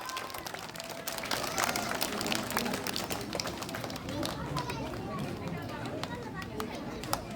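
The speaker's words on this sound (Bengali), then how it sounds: "সোহাইবের জন্য একটা জোরে করতালি দেই আমরা।" Audience applause for a young student at a kindergarten school's first-term exam result ceremony in Barishal, with steady broadband clapping and crowd noise filling the whole stretch at a fairly even level, plus a faint murmur of voices underneath.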